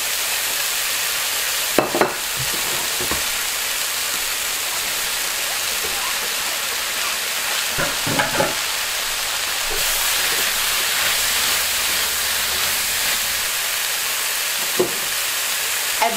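Carrot, capsicum and leeks stir-frying in a little oil, a steady loud sizzle with a few sharp clicks and scrapes of stirring scattered through it.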